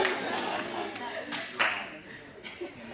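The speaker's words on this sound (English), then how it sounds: "And the prizes, they get a massive hand clap." An audience at a university Toastmasters club meeting gives a hand clap, with a dense wash of clapping that comes in a few surges over three seconds and some murmuring beneath it.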